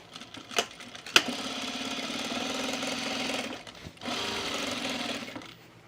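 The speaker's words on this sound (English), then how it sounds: "now let's stitch across the pocket so that we actually have a pocket" A sewing machine stitches across the pocket of a utility jacket in two steady, whirring runs with a fast, even rhythm, separated by a brief pause and preceded by a couple of sharp clicks.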